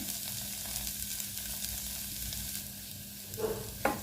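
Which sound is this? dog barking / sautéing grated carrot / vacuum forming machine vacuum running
sautéing grated carrot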